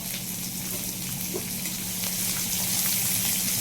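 Cumin, mustard seeds and onion sizzling in hot oil for a ridge gourd dish, a dense, steady crackling hiss close by that grows slightly louder, with no talking.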